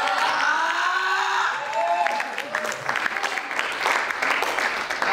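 A church congregation applauding and cheering in praise to God, sustained crowd clapping with a preacher's voice sounding over it at the start.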